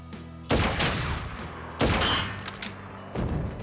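Gunfire in Crisis Core: Final Fantasy VII Reunion, three loud booming shots spaced about a second apart, each trailing off in a long rumbling decay.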